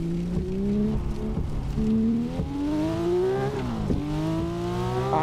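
A Porsche GT3 992 RS engine in a racing video game revs and shifts repeatedly, its pitch climbing through gears with brief drops at each change, loud and continuous with no talk.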